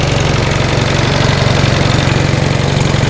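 A 1945 Onan generator engine idles slowly with the throttle turned down, a loud, steady close-up chugging with even rapid firing pulses and mechanical vibration, no voices.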